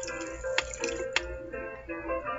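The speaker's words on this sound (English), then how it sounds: "Is that boiling water?" Boiling water splashes and pours in the Whack Your Teacher video game, a short wet gush with a couple of sharp spattering hits, fairly close and without talking.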